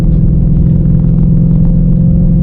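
Engine of a boosted 2021 Ford Mustang Mach 1 with a steady, loud low rumble held close throughout, a continuous deep drone with no clear rev peaks and no talk.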